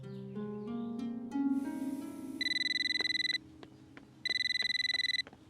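A house telephone rings in two long electronic bursts separated by a pause, loud and alone with no talking, following a short run of dial or keypad tones at the start.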